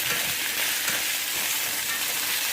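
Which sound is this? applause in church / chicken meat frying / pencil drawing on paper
chicken meat frying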